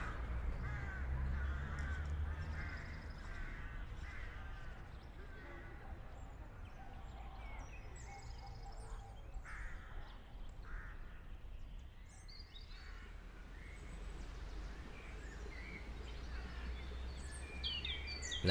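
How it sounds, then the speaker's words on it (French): A carrion crow caws repeatedly against a steady outdoor background hum, the calls moderately distant and recurring throughout. "La corneille noire, c'est elle."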